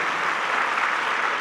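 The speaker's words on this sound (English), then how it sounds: "If we give them a round of applause." Steady, dense round of applause from a large audience in a convention hall, thanking kitchen and support staff; a continuous even wash of clapping with no talk over it.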